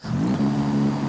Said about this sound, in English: this is what launch control sounds like on this RX-7 standard